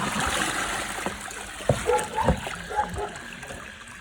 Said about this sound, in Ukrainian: Додаємо водичку.